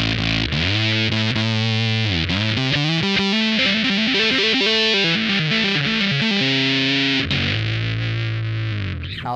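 Fuzzed bass guitar from a Big Muff pedal feeding a SansAmp, playing a busy rock intro riff with a heavy, gritty tone and steady loud notes that shift pitch throughout, close up and without speech.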